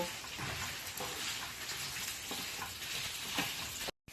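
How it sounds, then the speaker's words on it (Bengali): Steady sizzling and crackling of spices with chopped ginger lightly frying in a hot pan, continuous and fairly close, with a brief cut at the very end. "এই সব মশলাগুলোকে আমি একটু হালকা ভেজে নেব।"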